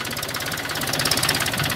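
A new Mahindra 265 DI tractor engine runs nearby with a fast, steady diesel knock and a rattling, pulsing throb that grows slightly louder, with no talking.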